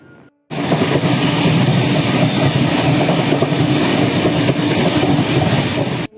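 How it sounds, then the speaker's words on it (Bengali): The Sambaleshwari Express pulls into a station as a loud, steady rumble that holds evenly for several seconds after a sudden start, then cuts off. "18005 সম্বলেশ্বরী এক্সপ্রেস ঢুকছে।"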